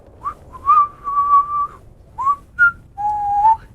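A man whistles a short tune nearby: a few clear, sustained notes with brief gaps, and nothing else in the background.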